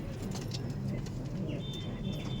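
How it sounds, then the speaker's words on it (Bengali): Breeding pigeons in a loft coo softly in low, rolling murmurs over a steady background hum, with a faint high chirp toward the end. "আর এই সাইডে আছে ব্রিডিং এর পায়রা"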